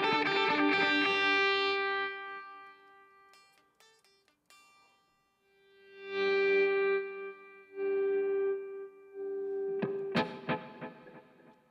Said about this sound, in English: that's the effect of having your volume before or after your delay and reverb